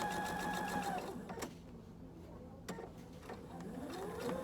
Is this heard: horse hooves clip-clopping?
no